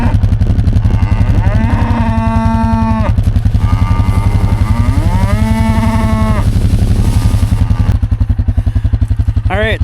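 Farm cows mooing, two long, loud, drawn-out moos one after the other over a constant heavy rumble of an engine or machinery nearby, with a clattering burst at the very end.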